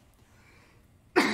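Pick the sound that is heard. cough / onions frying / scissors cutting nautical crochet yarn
cough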